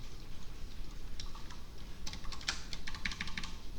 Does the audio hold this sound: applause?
no